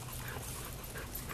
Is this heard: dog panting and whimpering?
yes